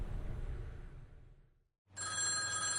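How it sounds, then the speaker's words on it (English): A hotel room telephone rings loudly after a brief quiet gap, its bright electronic tone sustained and steady following a stretch of low rumbling background. "My room phone was ringing."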